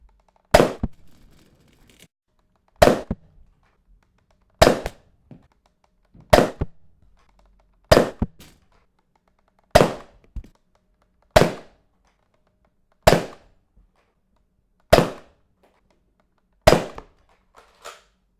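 A Nerf Kronos blaster fitted with a K25 spring fires darts: ten sharp, loud snapping shots spaced about two seconds apart, each with a short rattling tail, alone with no talk.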